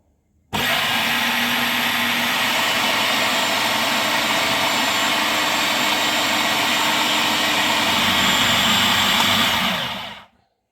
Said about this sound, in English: we're just going to blend this now until we got a nice crumble